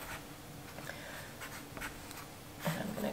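A pen marks lines on a paper sewing pattern for a vintage-style capelet bed jacket, giving faint scratchy strokes with small pauses, and slightly louder scribbling toward the end.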